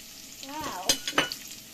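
Garlic and onion hit a hot pan for adobo, sizzling briefly with a couple of sharp clattering stir strokes over the crackle, close and fairly loud.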